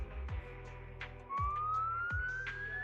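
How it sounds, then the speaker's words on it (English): A rising siren in the video game Zenless Zone Zero sweeps slowly upward over a steady low electronic drone and repeated rhythmic thuds, growing louder partway through with no voices. "So it really is a siren."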